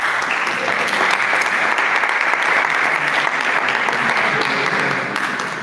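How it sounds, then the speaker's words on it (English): An audience at a food week event claps steadily and loudly for a speaker working on cattle breeds in Nigeria, a sustained dense wash of hands that tapers slightly at the end. "Please clap for him"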